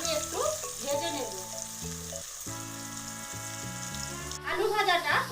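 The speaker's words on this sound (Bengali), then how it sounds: "এবারে আলুগুলো আমি একটু ভেজে নেব" Potatoes frying in oil for a Bengali koi fish curry, with a loud continuous sizzle running under a woman's speech and a spatter that flares up strongly toward the end.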